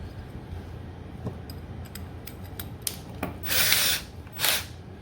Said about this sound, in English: And then just a normal electric drill.